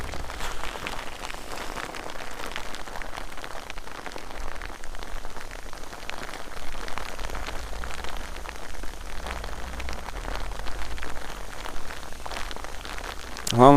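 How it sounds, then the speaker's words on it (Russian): Steady summer rain patters on nearby surfaces outdoors during a fishing trip, a dense, even hiss of drops lasting throughout with no break. "Дождик капает."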